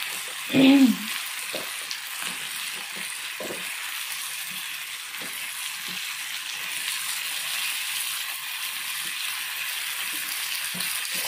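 Squash and other vegetables for pakbet sizzle as they sauté in a pan, a steady soft frying hiss that runs throughout after a brief clunk at the start.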